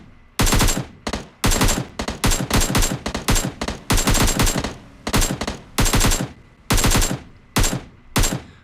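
AKM rifle in PUBG Mobile firing a long string of loud, sharp bursts and single shots at a steady pace, with brief gaps between volleys and no talking.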